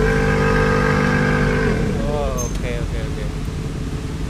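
A 2021 Benelli Dong electric motorcycle plays its simulated engine sound, a steady harmonic motor-like hum that bends and fades after a couple of seconds, heard up close alongside brief talk.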